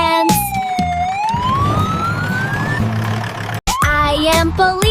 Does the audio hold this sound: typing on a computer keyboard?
no